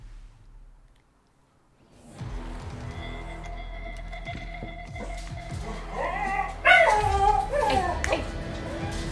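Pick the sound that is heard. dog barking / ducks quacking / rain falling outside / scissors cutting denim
dog barking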